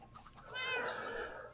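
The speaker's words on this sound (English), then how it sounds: "There's so many cats around here." A single drawn-out meow from a cat in a video game base, fairly faint against a low background, rising in the middle and tapering off.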